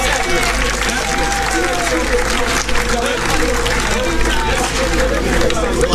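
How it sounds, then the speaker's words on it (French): A big crowd at a Mardi Gras parade in Basse-Terre claps and cheers continuously, a loud, dense wall of applause with a voice calling out over it. "j'entends des applaudissements"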